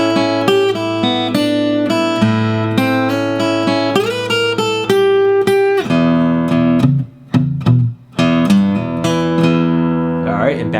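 An electric guitar plays a solo blues lick in E, a run of bright, ringing picked notes and bends that briefly drops out and returns before settling back toward the root, clear and up close.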